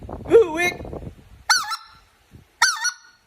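A speckled goose call made by Todd Millar is blown in three loud, sharp two-part hoo-ick notes, each rising to a squeal, with short pauses between them.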